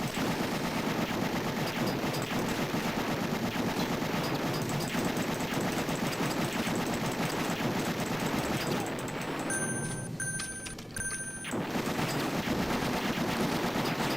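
An arcade light-gun shooter blasts rapid, continuous machine-gun fire at a helicopter, loud and unbroken for most of the stretch, with electronic beeping tones briefly cutting through near the end.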